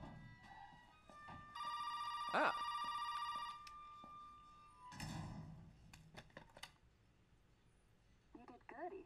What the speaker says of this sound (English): Is that the phone in here?